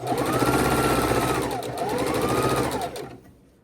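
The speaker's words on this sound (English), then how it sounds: "We're sewing it on, leaving us a piece on the edge, both sides of the edge, that we're going to trim off." Sewing machine stitching a strip onto a quilt piece, running in a steady close rapid whir with a slight swell in speed mid-run, then slowing and stopping just before the end.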